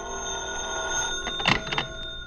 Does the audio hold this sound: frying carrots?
no